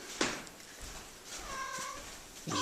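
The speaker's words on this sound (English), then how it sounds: "I can find my two cats, hopefully, because they should be in this room." A pet cat indoors gives a couple of short meows close by, with faint shuffling around them.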